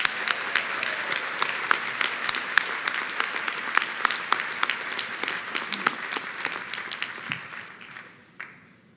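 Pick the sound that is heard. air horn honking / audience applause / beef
audience applause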